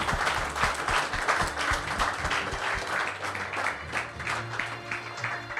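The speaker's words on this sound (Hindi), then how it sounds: "एक बार ताली बजाते रहो भाई।" A hall full of people at a coaching centre gathering applauds steadily, dense hand claps rolling on for several seconds with slight swells, close and loud, with no talk over it.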